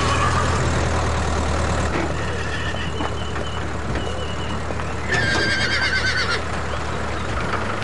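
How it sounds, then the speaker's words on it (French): A horse whinnies loudly over a steady low engine rumble, with a bright, high neigh standing out near the end, in an English village drama scene. "Ne t'approche pas de ce cheval."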